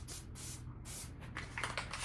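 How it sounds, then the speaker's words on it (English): A short, faint hiss of spray from a can of grease applied to a coolant hose on an ES300 during thermostat and hose installation, with low background hum. "Just gonna spray a little bit of grease here."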